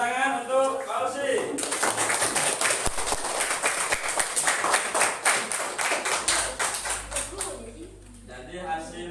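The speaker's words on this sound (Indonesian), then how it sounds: "Tepuk tangan untuk Kosi." A classroom of students breaks into lively clapping for a classmate named Kosi, a dense burst of applause lasting several seconds before it tapers off, with a teacher's voice heard briefly before and after.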